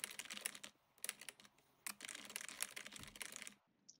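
Code is typed on a computer keyboard in rapid uneven bursts of close, crisp key clicks, with short pauses between runs and no talking.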